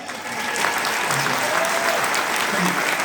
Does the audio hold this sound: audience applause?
yes